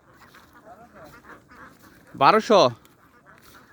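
Golden ducks, mostly drakes, on a duck farm of about 1,200 birds give two loud, close quacks in quick succession over a soft background of flock murmurs, with someone speaking briefly.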